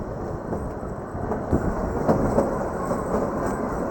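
The Kalka–Shimla toy train rolls into Shimla station, a steady rumbling clatter of carriages on narrow-gauge track with a few louder knocks and rattles as it slows.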